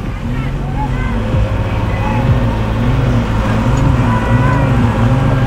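A JCB and a truck strain their engines against each other in a tug contest. The result is a loud, steady diesel drone with a wavering, throbbing pitch that holds throughout and rises slightly partway through.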